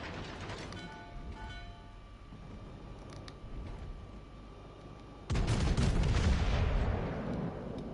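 Naval ship guns booming in World of Warships Legends, a heavy salvo erupting after a stretch of lighter mechanical game noise and rumbling on as a loud sustained roar.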